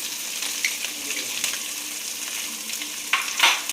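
Onion and turmeric frying in a pan, a bright steady sizzle with light stirring taps, swelling louder with scraping near the end before cutting off.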